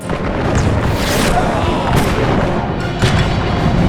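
Booming volleys of musket and cannon fire in the video game Empire: Total War go off repeatedly over a dense battle din, with sharp cracks and rolling blasts under constant noise.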